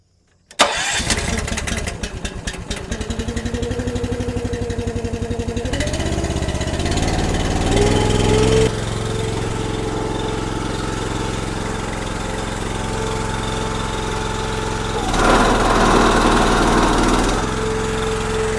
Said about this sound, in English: So let me crank the splitter up.